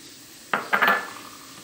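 Tomatoes and tomato juice go into a cooking pot over stuffing for red peppers, giving a sharp metallic clink and a short clatter of utensil against the pot, close and brief, with no speech.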